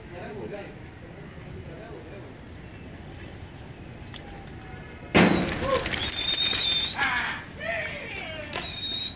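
Pigeons coo and flutter at a rooftop loft in Nazimabad, with soft cooing beneath voices talking, then a sudden loud burst of wing flapping midway followed by more rustling and calls.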